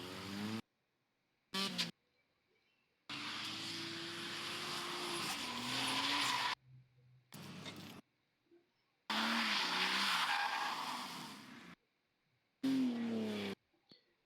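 A BMW spinning out at a grassroots car event, heard as bursts of loud engine noise and tire screech cut between silent gaps, fairly distant and alone.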